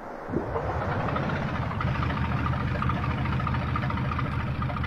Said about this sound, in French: Je mets le moteur en route.